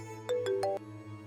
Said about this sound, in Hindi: तुम्हारा फोन बज रहा है, उठाओ तो सही